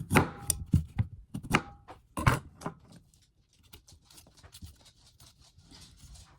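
A knife scrapes and cuts in quick, irregular strokes while sweet potatoes are peeled in a home kitchen. The crisp strokes come loud and close at first, then thin to fainter, scattered scraping.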